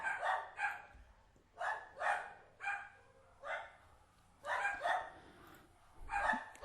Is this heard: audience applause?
no